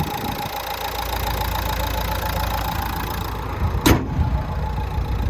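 The 1.5-litre diesel engine of a 2013 Nissan Qashqai idles with a steady low rumble, followed by a short sharp clack near the end, no talk.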